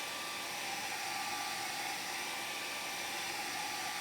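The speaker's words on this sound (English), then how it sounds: "So I've got a hairdryer here, and we're going to take the hairdryer to this" A hairdryer blows steadily on wet watercolor paper as the cloud painting is dried, giving a continuous even whoosh of air and motor noise from start to finish with no pauses.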